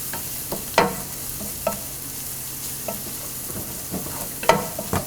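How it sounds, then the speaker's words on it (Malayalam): Spice powders sautéing in a pan for a Kerala jackfruit seed stir fry, heard up close: a steady low sizzle broken by several sharp spoon scrapes and clacks against the pan at irregular intervals, with no talking. "ഇപ്പോൾ മസാലപ്പൊടികളുടെ പച്ചമണം എല്ലാം മാറി നന്നായിട്ട് വഴന്നിട്ടുണ്ട്."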